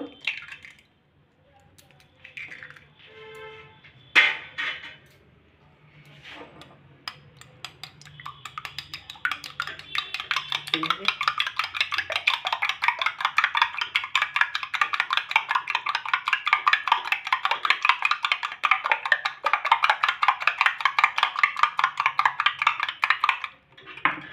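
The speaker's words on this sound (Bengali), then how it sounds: "এবার আমি একটা ডিম ফাটিয়ে নেব।" Egg cracked and beaten for a rohu fish fry batter, with a little flour added to it. A few soft taps and clicks come first, then steady, fast whisking scrapes the bowl for a long stretch, close and fairly loud.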